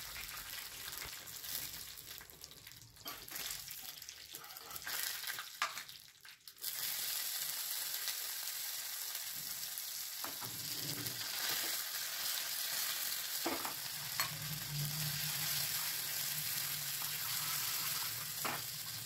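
Dried red chili, crushed garlic cloves and curry leaves fry in hot oil as a tempering for lemon rasam, giving a steady, loud sizzle with occasional stirring scrapes and no talking.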